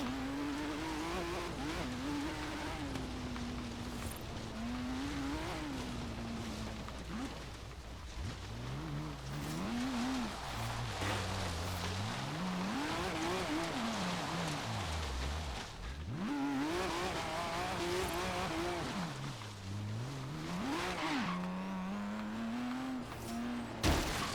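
Car driving in the video game Forza Horizon 3, with a continuous engine drone that rises and falls in pitch as it revs, accelerates and shifts. It stays loud and steady throughout with no talking.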